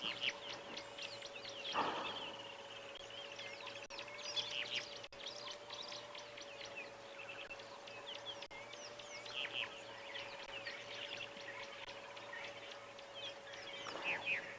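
A blue crane calls from a distance at sunrise on safari, a few harsh rasping cries standing out against a steady chorus of chirping birds and a faint constant hum.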